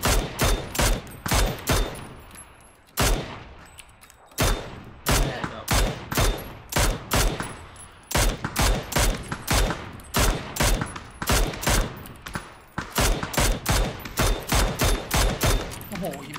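Rapid bursts of automatic gunfire in a PUBG ranked match, loud and repeated in quick volleys across the whole stretch, with brief gaps between strings of shots.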